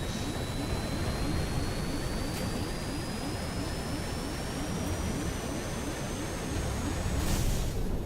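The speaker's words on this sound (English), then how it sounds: "The plane is pitching heavily to the right." A plane's engines roar in a steady, loud drone with a rising whine as the aircraft pitches hard to the right during a crash scene in the Stranded Deep game.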